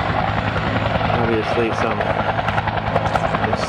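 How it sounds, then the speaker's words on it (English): A helicopter approaching to land on the West Point grounds, its steady rotor thump and engine drone continuous and fairly close beneath a voice talking. "we've got a helicopter coming in"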